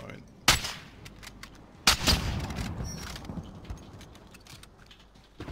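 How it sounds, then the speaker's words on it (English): Gunfire in a video game, with two sharp, loud shots a little over a second apart followed by softer scattered pops and mechanical clicks, while a player talks quietly. "I'll just fire it."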